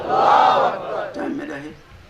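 A crowd at a religious gathering roars a takbeer slogan back in unison, a loud shouted burst of many voices followed by a second, weaker wave that trails off.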